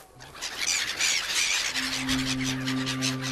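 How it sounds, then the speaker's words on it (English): Seagulls squawk loudly over ships, a dense chorus of harsh overlapping cries that swells and persists throughout, with a low steady tone entering partway through beneath the birds. "just like these seagulls on these ships"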